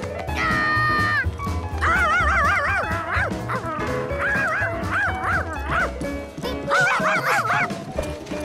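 A cartoon dog in the French animated series Curious George barks, yips and whimpers in quick repeated bursts, loud and close, over a backing of music throughout.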